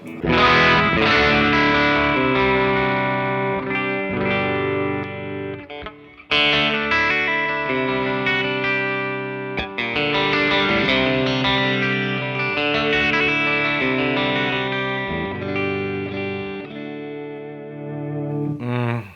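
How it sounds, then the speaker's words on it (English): Heavily distorted electric guitar on its bridge pickup, a PRS Modern Eagle V, playing sustained chords and riffs with a chorus-like shimmer, loud and alone, with a brief pause midway. "Let's hear what it does with the bridge pickup."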